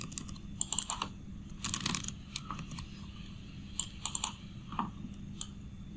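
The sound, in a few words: typing HTML code on a computer keyboard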